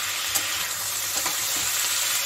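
Broad beans drop into hot oil in a pan for fish chorchori, a bright, steady sizzle with faint stirring scrapes, close and continuous without any voices.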